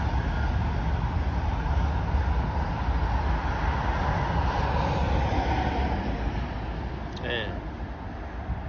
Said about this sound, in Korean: 기차가 자주 다녀.